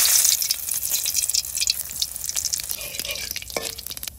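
Dried red chillies hit hot oil with close, uneven crackling and spitting sizzle, with small sharp pops scattered throughout and no talk.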